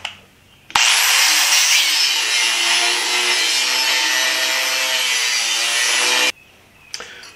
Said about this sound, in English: when you cut the last little bit of steel here, this tank will compress and close your kerf